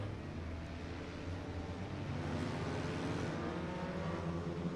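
Continuous roar of racing engines from a distance at Irwindale Speedway, a steady broad rumble without breaks or voices.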